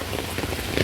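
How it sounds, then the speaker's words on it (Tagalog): Steady rain patters on surfaces along a hiking trail near a reservoir, a dense close hiss of drops for under a second with a slightly louder burst at the end. "Tuloy ulan kami ngayon."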